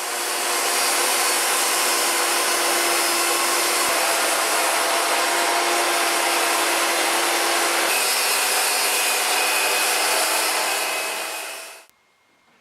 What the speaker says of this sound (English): the first step is to cut all the pieces to a rough size